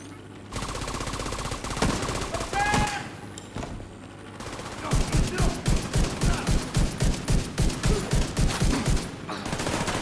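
Sustained automatic gunfire from a muzzle-fitted gun in The Division video game, a dense opening burst followed by a pause and then a rapid, evenly spaced string of loud, close shots.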